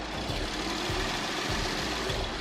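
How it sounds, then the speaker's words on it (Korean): A quiet, steady gasoline large-sedan engine idle heard up close with the hood open, a soft even hum with a faint low rumble and no voices. "엔진 소음을 담기 위해 본네트를 한번 열어봤는데요"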